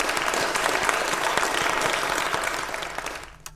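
Dense audience applause at a talk on the Bhagavad Gita and technology, steady and fairly loud for most of its length before thinning out and fading near the end.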